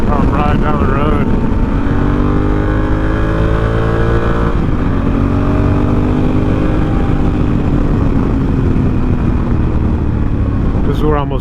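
A Honda Africa Twin motorcycle cruises down the road, its engine a loud, continuous drone with a slight rise and fall in pitch, mixed with wind rush, while a rider talks over it.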